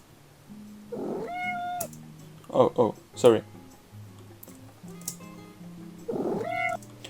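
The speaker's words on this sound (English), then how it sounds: "the full MEOW sample." Cat meow sample repeated as a musical element in a song, with several drawn-out meows, some pitched and layered over a soft beat, and a brief spoken apology in the middle.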